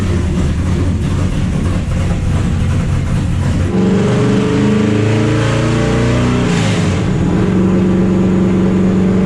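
LS7 V8 in a NASCAR truck fed nitrous, revving hard to very high RPM, a loud close continuous roar that climbs in pitch through the pull with no talking.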